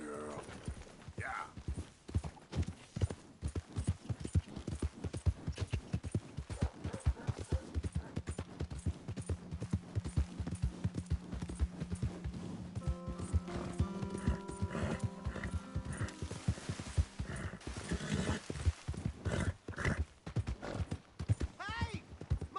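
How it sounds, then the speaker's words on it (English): Horse hooves clip-clopping in Red Dead Redemption 2, a steady close trot with creaking tack and a brief whinny, while people talk over it. "Hey! My horse!"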